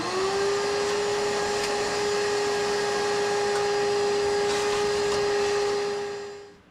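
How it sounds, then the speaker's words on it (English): A shop vac runs steadily up close while sucking sawdust out of a dust collector, a loud continuous whine with a hissing airflow, winding down at the end with no one talking. "So I got the shop vac out here, and we're just going to try and vacuum up as much of this sawdust as we can get."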